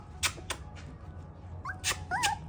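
Puppies and their mother dog inside a gym give faint whimpers and small squeaky yelps, a few scattered short cries over quiet room noise, with no speech.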